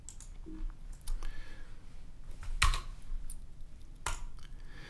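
Typing on a computer keyboard while entering data into a FileMaker field: a few quiet, scattered key clicks with one or two sharper taps, close by and alone in a hushed room.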